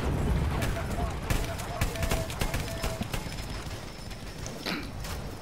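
Horse hooves clatter in rhythmic clip-clops in the Battlefield 1 video game, heard beside distant gunfire and mechanical noise, with a voice talking over it.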